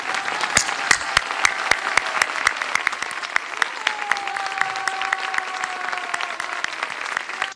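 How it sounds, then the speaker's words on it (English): A standing audience applauds the women of Ukraine at an Iranian revolution anniversary gathering, a dense, steady clapping that fills the room with a few sharper claps popping out, while a faint tone drifts underneath. "let us stand up and applaud them for 1 minute"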